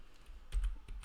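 A username being typed on a computer keyboard set to an English layout, a short run of several close, quiet key clicks in an uneven rhythm, with no voices.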